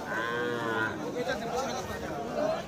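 Native medium bulls at a cattle market in Thakurgaon district give a drawn-out moo early on, amid a busy crowd of voices and livestock calls close by.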